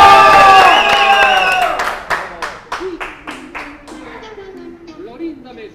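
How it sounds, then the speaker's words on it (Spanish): A studio audience claps and cheers for Jesús González, a dense burst of applause that thins into scattered sharp claps over a few seconds, with voices calling out underneath. "recibimos con un fuerte aplauso al señor Jesús González, que baila así"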